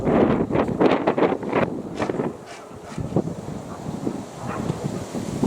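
A strong, cold wind gusts across an open outdoor area where pigeons are flown, giving a loud, continuous rushing roar with rumbling buffets on the microphone and no voices.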